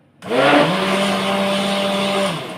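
Electric hand mixer whirring loudly through cake batter of eggs, sugar, milk, oil and vanilla: it starts abruptly, surges briefly, then holds a steady, close motor whine for about two seconds before easing off.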